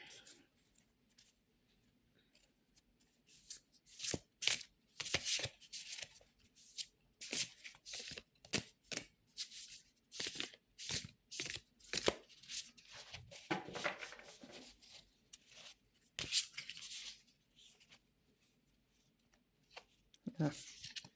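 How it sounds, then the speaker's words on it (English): Tarot cards are shuffled in uneven bursts of soft riffling and slapping, close by but quiet, with a voice speaking over them at times. "I feel like pulling more cards."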